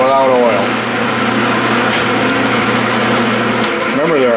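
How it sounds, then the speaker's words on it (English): A metal lathe turns leaded steel dry, with no cutting oil, giving a steady, loud mechanical drone with a constant whine that holds for the whole stretch and rises slightly at the end. "Well, the lathe is getting noisy."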